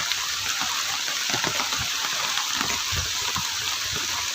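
Heavy rain pours down in a steady, dense hiss that fills the whole clip, loud and unbroken with a faint low rumble underneath and no voices.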